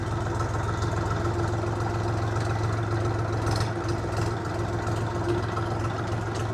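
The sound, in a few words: three-cylinder tractor engine idling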